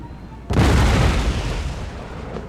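A cannon fires shrapnel shot in the strategy game Empire: Total War, one sudden loud boom followed by a rumbling, crackling burst that lingers and slowly fades.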